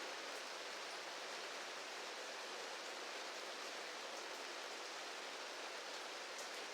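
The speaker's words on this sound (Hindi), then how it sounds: "बरसात स्टार्ट हो गई है बहुत तेज।" Heavy rain pours steadily outdoors in a village garden, a dense, even hiss with no pauses, loud and close throughout.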